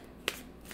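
A single soft card snap as one card is pulled from a deck, brief and quiet against a faint background hum.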